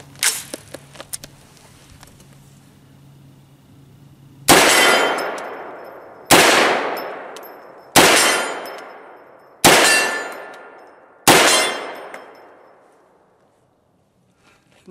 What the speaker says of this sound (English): let's put a few more rounds on the steel